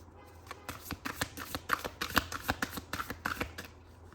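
Tarot cards being shuffled close up, a quick run of crisp riffling flutters and soft taps repeating steadily for several seconds.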